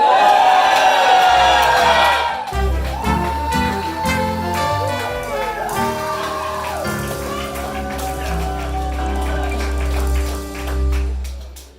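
A comedy roast audience cheers and yells loudly at first, then the sound shifts into music with sustained tones and a steady low bass for the rest, with crowd noise fading under it.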